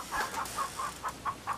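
Chickens clucking around a coop in the VGA remake of the King's Quest 3 computer game, a steady run of short, evenly spaced clucks of moderate loudness with no voices over them.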